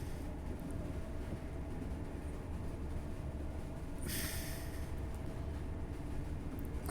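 Simulated LNER Class 801 train from Train Sim World 4 running at speed near 125 mph, a steady loud rumble and rolling drone throughout with a brief hissing burst partway through, no voices.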